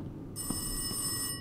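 A telephone rings in the horror video game Rise of Insanity, a bright, sustained electronic ringing tone that starts suddenly and holds steadily for about a second before stopping.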